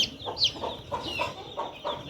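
Aseel chicks on a farm, parrot-beak young hatched from a black hen's and a yellow hen's eggs, give short high chirps and soft clucking calls in an uneven series, fairly close, with no talking.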